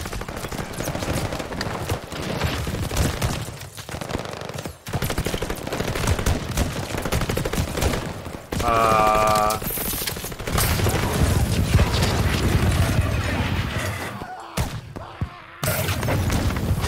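Gunfire in Call of Duty: Vanguard, dense rattling bursts of automatic fire and booms running nearly throughout, loud and close, with brief gaps and a tonal game effect midway.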